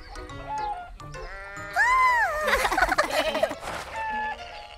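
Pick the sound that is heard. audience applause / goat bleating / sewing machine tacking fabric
goat bleating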